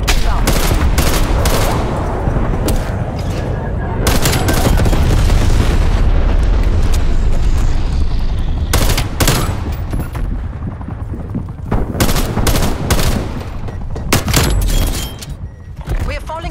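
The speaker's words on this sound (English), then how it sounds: "Bomb strike inbound." Loud bomb strike explosions and bursts of gunfire in Call of Duty: Black Ops Cold War, heavy booming blasts rolling over continuous firing, with repeated sharp impacts throughout and game voice callouts mixed in.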